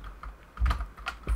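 Fingers type a Linux command on a computer keyboard for a Raspberry Pi, a short burst of several close, crisp keystrokes in an uneven rhythm.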